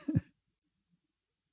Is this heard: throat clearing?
yes